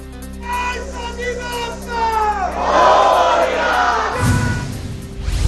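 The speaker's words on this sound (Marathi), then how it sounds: "प्रथम दर्शनाचा सोहळा पाहण्यासाठी भाविकांची मोठी गर्दी" A large crowd of devotees gathered at the Girgaon Raja Ganesh darshan in Mumbai during Ganeshotsav, raising a loud, continuous clamour of voices and cheering that swells midway and stays dense throughout.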